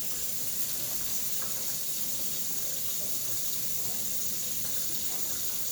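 Tap water runs steadily into a sink in a kitchen where chicken breasts are being prepared for canning, a continuous close splashing hiss that stays even throughout with no talking.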